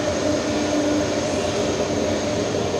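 An Alitalia airliner at Zurich Airport produces a constant, loud, broadband engine roar that holds steady throughout, with no voices over it.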